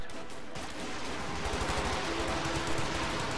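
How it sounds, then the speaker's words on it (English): Stuka fire during a WWII real-time strategy match, a dense, loud burst of rapid gunfire and explosions that rattles on steadily with no talk. "Stuka firing."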